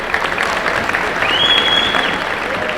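An indoor crowd at a boys' high school basketball game claps in a loud, continuous round of applause, with a faint whistle-like tone riding over it.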